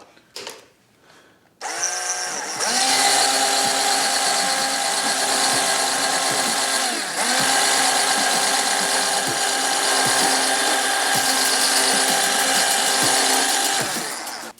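Power drill spinning a screw coated in valve grinding compound inside an Arsenal AK-74 SLR-104UR barrel muzzle, cutting a crown; after a brief quiet start the motor kicks in with a steady, loud whine and grinding that runs continuously, dipping briefly midway.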